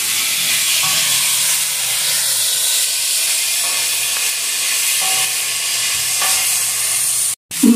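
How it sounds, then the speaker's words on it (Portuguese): Meat fries loudly on a disc pan for a fava bean lunch, a steady dense sizzle and hiss filling the space close by, with faint clinks and a brief break near the end. "Eu vou usar o disco aqui, porque eu já estou fritando a carne aqui."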